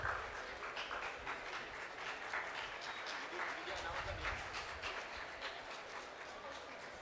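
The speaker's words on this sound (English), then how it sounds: "Please welcome them with a huge round of applause." Audience at a design, technology and social innovation workshop applauding, a dense, steady wash of clapping sustained at even loudness throughout, with voices mixed in underneath.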